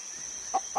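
Two short, close clucks from a farm hen, evenly spaced and fairly clear against a quiet background with a faint steady tone.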